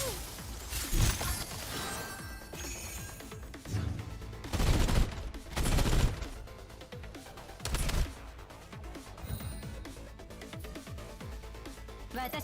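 Machine gun fire in Girls Frontline 2: Exilium, coming in several loud bursts spread across the stretch, with crashing impacts in between and game sounds running underneath.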